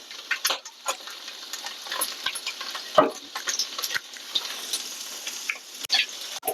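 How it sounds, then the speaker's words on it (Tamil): Butter melting and sizzling in a hot pan for chicken ema datshi, a Bhutanese chili dish: a steady soft crackle of spitting fat with scattered sharper pops and a louder tap near the middle, fairly close, with no talking. "ஸோ பட்டர் போட்டுக்கலாம்."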